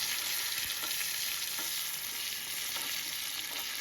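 Garlic frying in oil for dal palak, a steady broadband sizzle with a few faint stirring scrapes, close and continuous throughout without any voices.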